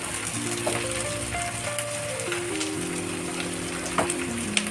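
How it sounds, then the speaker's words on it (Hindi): Onions and spices frying in a pan for chole, a steady faint sizzle and crackle with occasional small pops, alone and continuous. "पहले हम इन सभी चीजों को अच्छी तरह से भून लेते हैं"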